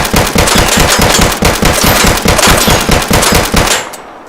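Rapid automatic gunfire aimed at a turret behind a chain-link fence in the PS5 video game Deadside rattles in a steady, very loud stream of evenly spaced shots for about four seconds before cutting off.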